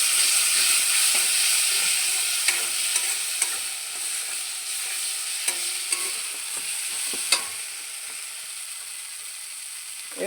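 A spice paste with ground white mustard sizzles steadily in a pan for a bhola fish curry, with a bright continuous hiss and occasional sharp spatula scrapes and taps, close and alone.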